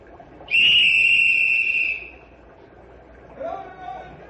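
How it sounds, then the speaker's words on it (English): A loud, sustained warning whistle blast with bright harmonics lasts about a second and a half before a log-jam dynamite blast, followed after a pause by a shorter, softer whistle note. "Blow whistle, Tony."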